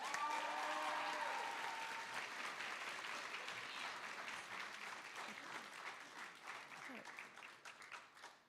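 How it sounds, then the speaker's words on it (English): Students and staff at a Black History Month school assembly keep up a broad round of applause that slowly thins out, with scattered cheers early on and voices murmuring through the crowd noise. "Let's give them one more big round of applause."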